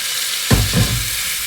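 Chopped pepper and tomato hit a hot pan together, setting off a sudden loud sizzle that settles into a steady, close frying hiss.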